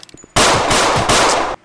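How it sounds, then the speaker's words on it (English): A loud burst of rapid automatic gunfire in the Roblox game Eclipse Roleplay: LA, roughly one second of dense, continuous shots with a slight pause midway, preceded by a few faint clicks. "I'm getting shot left and right, bro"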